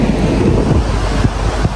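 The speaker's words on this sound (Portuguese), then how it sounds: "Olha o barulho do mar, pra vocês terem uma ideia." Sea surf washes onto a beach at Florianópolis as a loud, steady roar with heavy wind buffeting the microphone, close and continuous, with no voices.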